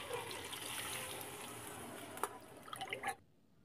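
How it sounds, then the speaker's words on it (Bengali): Mustard and poppy seed paste being stirred with water in a pot gives soft liquid sloshing and trickling, with a few brief clinks toward the end before it stops abruptly. "এখন জলের সাথে এভাবে নাড়াচাড়া করে সব কিছু মিশিয়ে নিচ্ছি।"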